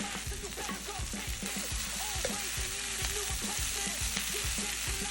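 Loud, constant sizzling of beef and vegetables frying in a hot pan, with scraping stirs and clacks of a utensil against the pan throughout.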